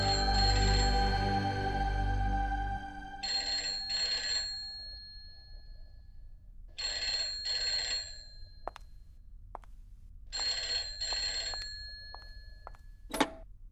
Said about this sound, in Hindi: हैदर साहब, आपके लिए फोन है।